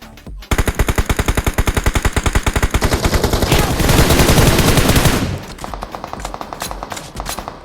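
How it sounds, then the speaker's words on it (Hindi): Rapid automatic gunfire bursts in BGMI (PUBG Mobile), loud and close, with sustained rattling fire that thickens into a dense barrage before dropping to quieter, more distant repeated shots. "अब ये पोरे मेरे टीममेट के ऊपर गोली चलाते।"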